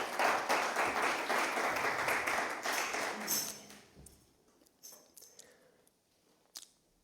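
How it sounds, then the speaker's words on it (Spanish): Church congregation clapping together as an offering of praise, dense and loud for about three seconds, then thinning out to a few scattered claps and taps before fading to near quiet. "Dele ofrenda de palmas al Rey glorioso."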